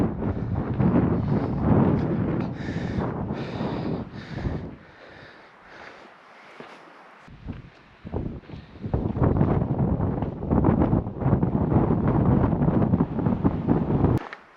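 Strong wind buffets the microphone on an exposed mountain peak during a hike in Utah, loud and gusty for most of the stretch, easing briefly midway before roaring back.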